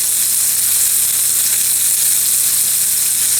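A ribeye steak sizzles loudly on a griddle, a dense, bright, continuous hiss that stays steady and close throughout, with no talking.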